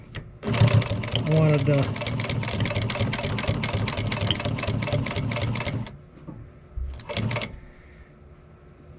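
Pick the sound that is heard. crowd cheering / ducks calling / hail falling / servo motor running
servo motor running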